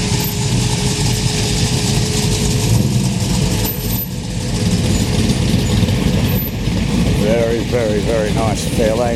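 A Ford Fairlane 500 idles at a busy car meet with slow traffic, a steady low engine rumble running throughout amid crowd and road noise, with a few faint chirpy sounds near the end.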